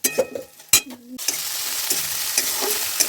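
Ginger paste frying in hot oil with softened tomato, a steady close sizzle with scraping stir strokes of a spoon across the pan.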